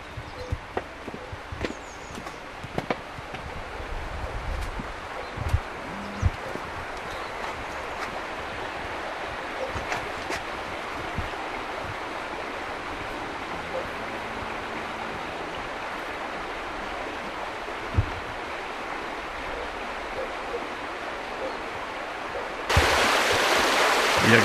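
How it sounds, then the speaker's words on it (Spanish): Erecia river, a trout stream near a workshop, flows in a steady broadband wash with small splashes and a few knocks, moderately close and heard alone without talk. "Y aquí tenemos el río Erecia, un río bastante truchero."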